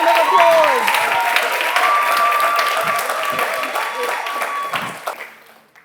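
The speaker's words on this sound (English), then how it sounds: "Give them a round of applause." Audience applause for the correct team at a quiz session, dense clapping under a speaking voice, steady then tapering off toward the end.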